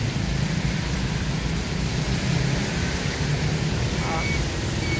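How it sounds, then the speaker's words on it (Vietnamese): Heavy rain pours down at an outdoor market in Saigon, a dense constant hiss and patter across everything, loud and unbroken, with faint low rumbles underneath. "Mưa to quá trời luôn."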